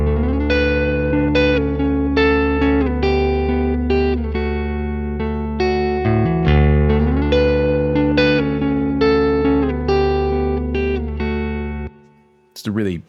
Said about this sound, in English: It's a really pretty sort of a guitar sound.